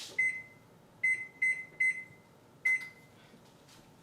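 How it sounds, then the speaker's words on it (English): An oven's control panel gives five short, clear electronic beeps at irregular spacing as it is set to preheat to 450, heard close up in a quiet kitchen. "I need to preheat my oven to 450"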